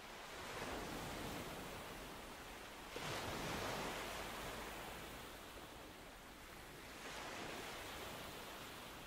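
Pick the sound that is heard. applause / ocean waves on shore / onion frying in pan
ocean waves on shore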